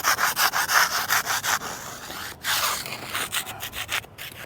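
A plastic scraper rasps against rock-hard crust on a broken WW1 veteran's headstone outdoors, close rhythmic back-and-forth strokes in quick even bursts, then a looser, more irregular scraping.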